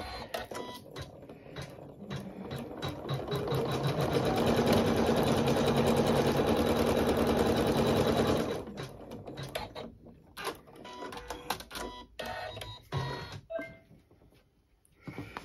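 An embroidery machine sews a bunny appliqué design in blue thread, with a steady, loud mechanical whirring and rapid needle clatter that runs for about eight seconds, then stops and starts in shorter bursts.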